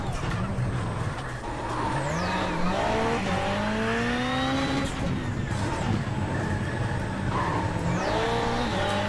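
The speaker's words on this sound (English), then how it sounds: "You can kind of see and hear the car skipping as it's like teeter-tottering due to the wheel damage." In the game iRacing Rally X, racing car engines whine and shift pitch continuously, with tire noise and rough rhythmic rumbling as a car with a damaged left rear wheel skips and lurches unevenly, all loud and close.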